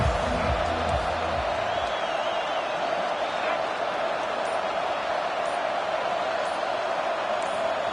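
A roaring stadium crowd at an Indy football game forms a dense, sustained wall of noise, with brief crowd voices early on and no pauses.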